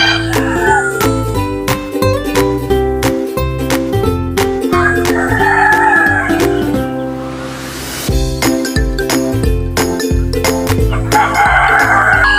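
Native chickens cluck on the range while a rooster crows loudly nearby, the flock's calls continuing steadily all around.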